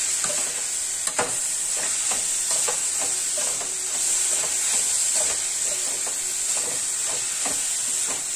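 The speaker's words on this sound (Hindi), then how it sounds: "अब इसमें हम डालेंगे, पहले डालूंगी ये मिर्ची" Green chili hitting hot oil in a pan for a homemade turnip bhurji, a steady loud sizzle with a constant hiss and repeated clinks of a spoon stirring throughout.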